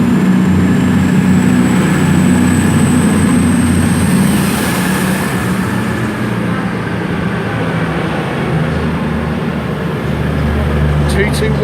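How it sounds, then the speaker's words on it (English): A pair of Virgin Trains Class 221 Voyager diesel units pulls out of Chester station on the 14:35 service to London Euston, giving a steady, loud engine drone with a rising high whine that continues throughout. "departing out now, 11 minutes late, is the 14:35 Virgin Train service to London Euston"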